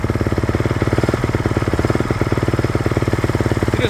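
A 2023 Honda CRF450RWE motorcycle engine idles close by with a fast, even thumping pulse, loud and steady throughout, alone without speech.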